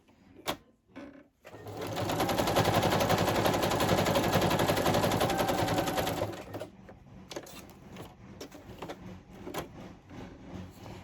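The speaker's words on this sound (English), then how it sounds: "some of us like the effect of the sewing machine" A sewing machine runs in a fast, steady stitching burst for about four seconds while making craft clusters, preceded and followed by quieter clicks and handling sounds.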